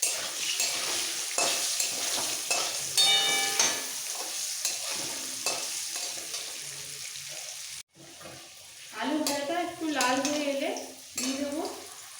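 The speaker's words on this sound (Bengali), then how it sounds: "আলু ভাজতে ভাজতে দিয়ে দেবো নুন" Potatoes sizzle in a pan for a Lote fish curry with vegetables, stirred with repeated scraping and clinks of a utensil, then a brief break before a voice talks over the continuing fry.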